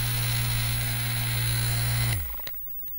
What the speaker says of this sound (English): I was trying to speed up the dry time with my handy dandy fan over here.